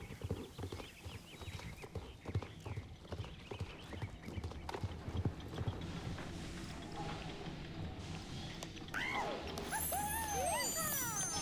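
A Connemara horse in the video game Star Stable Online clip-clops along at a steady rhythmic gait, its hooves clear and close throughout, with a brief whinny-like call and faint chirps near the end.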